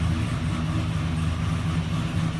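A turbocharged work truck engine running at a steady idle nearby, a low even rumble with a faint hiss above it and no other sounds.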